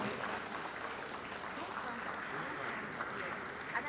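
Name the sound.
audience applause and clapping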